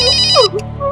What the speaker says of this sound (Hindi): अरे सही मौके पे फोन आया जी आपका